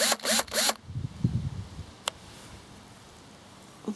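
A pink power screwdriver unscrewing a lamp-post, three quick whirring bursts close up, followed by faint rustling handling noise and a single sharp click.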